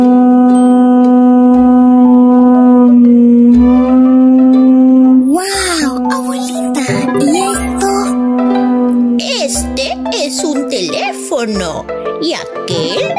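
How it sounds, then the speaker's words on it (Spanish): A pututo conch shell horn, once used to call village people to meetings, sounds a long steady sustained drone, loud and close, then continues under background music and bright tinkling sounds. "Este, por ejemplo, es un pututo."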